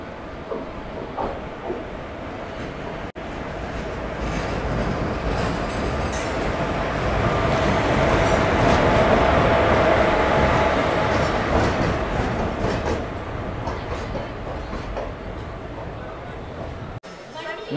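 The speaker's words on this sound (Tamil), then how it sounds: "பிளாட்ஃபார்ம் 5ல அரைவல் ஆகிட்டு இருக்கு" An intercity express train rumbles into platform 5 at a station steadily, the broad roar swelling to a peak midway and then easing, with a faint hum of voices in the background.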